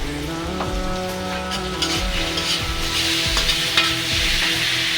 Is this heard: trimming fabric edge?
no